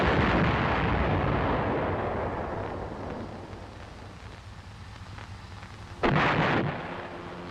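An M551 Sheridan armored reconnaissance vehicle's main gun booms loudly, its roar rolling off and decaying over several seconds before a second sharp blast near the end.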